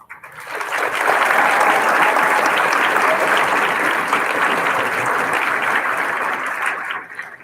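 An eighth grade graduation audience gives a big round of applause for student speakers: a loud, dense, sustained roar of clapping that swells in quickly, holds steady for several seconds, then tapers off.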